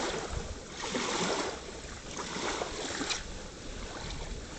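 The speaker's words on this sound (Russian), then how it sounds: "А, волны такие красивые." Sea waves wash on a beach in a steady broadband roar that swells and eases over a few seconds, heard alone and fairly quiet.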